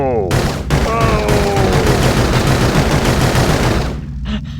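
Gunshots from the 1997 Westwood Studios video game Blade Runner: a rapid, loud burst of shots fired continuously for several seconds, with a whining tone at the start, ending abruptly into quiet.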